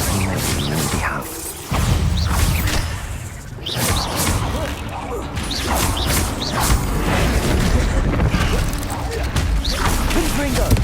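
Confringo spell blasts going off in Hogwarts Legacy, several sharp bursts and crashes scattered across a busy stretch of combat noise, with a voice speaking over it.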